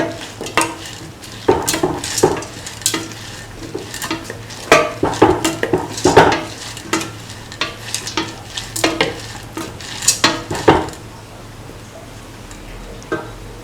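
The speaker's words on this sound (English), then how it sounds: "Mix thoroughly." A spoon scrapes and clatters against a pot as a potato, mung bean and rice mixture is stirred, giving repeated sharp metallic knocks in an irregular rhythm over a faint sizzle. The sound is close and fairly loud, with no talk.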